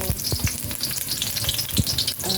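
Chopped onion and garlic sizzle in hot cooking oil in a pan, a steady crackling fry punctuated by a few scraping stirs, loud and close with no talking.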